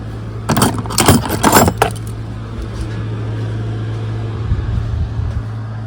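A metal wrench clanks and rattles several times in quick succession against an outboard motor's drive shaft, close and sharp, then a low steady hum continues underneath.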